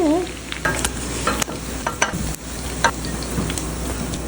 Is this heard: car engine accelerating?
no